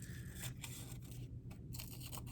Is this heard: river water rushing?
no